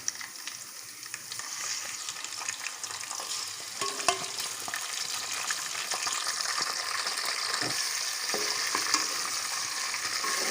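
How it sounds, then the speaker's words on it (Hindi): Onion, ginger and chicken sizzle and crackle in hot oil in a pan for chicken nihari, with a steady close frying hiss and occasional stirring clatter throughout. "ये हमारी दोनों चीज़ें फ्राई हो रही हैं।"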